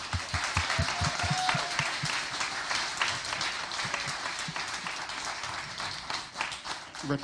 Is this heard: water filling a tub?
no